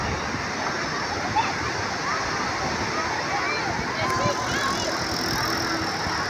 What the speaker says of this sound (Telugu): అలలు చూడండి ఫ్రెండ్స్, ఎలా వస్తున్నాయో